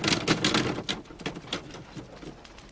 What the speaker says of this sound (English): So, now I have the new Alder typewriter.